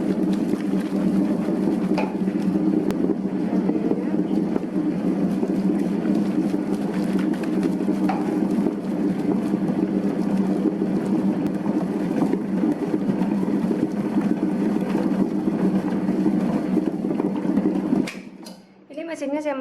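Bread dough mixer machine kneading chocolate bread dough, a loud, steady mechanical hum and churn running nearly twenty seconds before cutting off, with only brief handling noise afterward.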